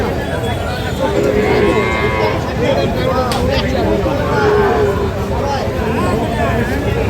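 Dairy cows at a rural cattle market in Dinajpur moo repeatedly in long, overlapping calls close by, over a dense babble of crowd talk.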